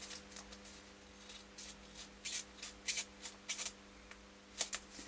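Foam being cut down to size while refoaming and restoring a Hacker RP30, heard as a series of short, close scraping and snipping strokes in an irregular rhythm over a low steady hum, with no talking.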